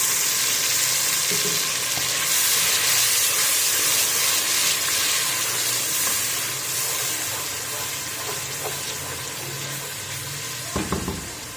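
Onion mixture and tomato paste frying in a pan for white lobia, a loud continuous close sizzle and hiss that slowly eases, with a few utensil knocks near the end.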